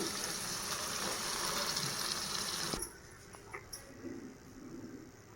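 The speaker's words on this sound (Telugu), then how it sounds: "చింతపండు పులుసు అయితే తీసుకున్నానండి ఇలా నెమ్మదిగా వేసుకోవాలి" Tamarind juice is poured slowly into a fish curry, a soft steady liquid stream for a few seconds that then stops, followed by faint small clinks and bubbling, with no voices.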